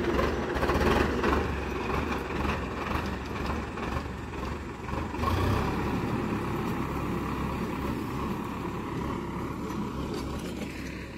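A tractor engine runs steadily in a sugarcane field, a continuous low rumbling drone with rougher surges partway through, close by.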